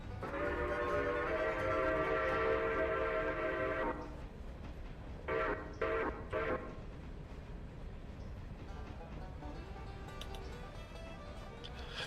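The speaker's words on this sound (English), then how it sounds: "Oh god, I hear a whistle." A steam locomotive whistle in the Railroader video game, a long loud chord-like blast followed by three short sharp toots, over a steady rumbling train background.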